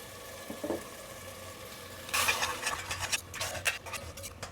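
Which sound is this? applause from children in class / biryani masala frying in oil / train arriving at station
biryani masala frying in oil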